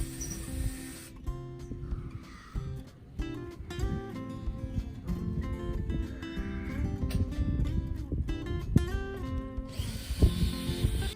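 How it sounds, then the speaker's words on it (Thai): A power drill whines steadily and grinds as it bores into material, its pitch wavering with load throughout. "สว่านเนี่ยจะได้เจาะเข้าง่ายๆ"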